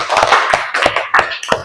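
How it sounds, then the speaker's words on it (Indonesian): A classroom group of pupils claps hands during a lesson, giving a handful of sharp, slightly uneven clap bursts about a third of a second apart, close and fairly loud. "sekarang kita kasih tepuk tangan dulu"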